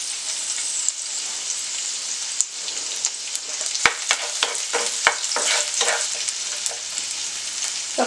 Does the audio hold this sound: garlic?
yes